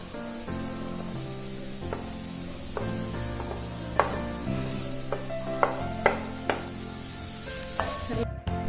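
Freshly grated coconut with green chilies frying in a pan for drumstick thoran crackles softly while a spoon stirs and taps against the pan, all over a tonal musical background.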